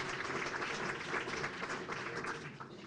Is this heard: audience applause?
yes